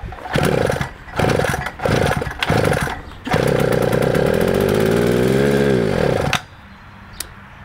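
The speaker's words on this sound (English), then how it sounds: "I'm gonna hold the throttle open and give her a rip." Carbureted mud bike engine with a shift kit and carb trouble: several short, loud revs, then a long, sustained rev with the throttle held open, its pitch sliding before it cuts off abruptly.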